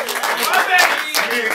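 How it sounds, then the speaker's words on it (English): A crowd at a rap battle claps in brief bursts, mixed with voices and cheering from the onlookers. "Clap it up for Eddie."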